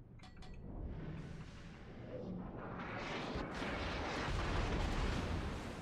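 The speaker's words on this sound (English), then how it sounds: "All guns firing on their HE." Warship guns firing high-explosive shells in the naval battle game World of Warships, a rumbling barrage of heavy booms swelling into a sustained roar, loud and dense.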